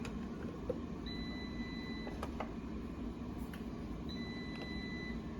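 An air fryer signals the end of its cooking cycle with two long, clear electronic beeps a few seconds apart, heard over a steady low kitchen hum with no talking.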